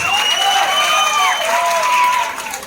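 Loud, sustained audience applause at a jatra show in Khaira, Balasore, with a whistle-like tone sweeping through the clapping. It fades slightly near the end.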